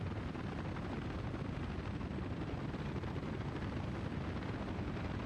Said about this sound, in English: Oh, look at all the freaking helicopters coming.